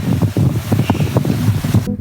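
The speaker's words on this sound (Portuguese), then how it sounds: "Apertou bastante o vento aqui, hein?" Strong wind buffets the microphone on a sailboat as it arrives in port, a steady close roar with gusty surges that cuts off abruptly at the end.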